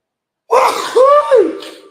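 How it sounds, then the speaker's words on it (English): A single loud, close sneeze with a sharp intake then explosive burst, trailing off into a short vocal exhale; no talking. "Sometimes I have to sneeze hard."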